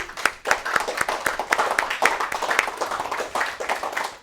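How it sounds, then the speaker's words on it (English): Classroom applause for two student volunteers during a music lesson on rhythm, tempo and meter: a dense, steady patter of many hands clapping at close range, lasting throughout. "Say a round of applause for them."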